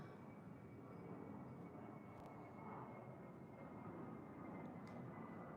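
An airplane passes overhead in London, producing a steady, broad, distant roar of aircraft engine noise that lasts throughout, faint and continuous with no voices.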